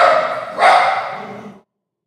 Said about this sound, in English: He just started barking right now.